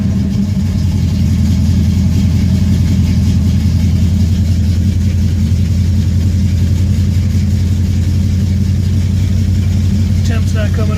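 A cold 1968 Buick GS 400 V8 idles steadily at close range, a deep, even rumble holding for the whole stretch with no revving.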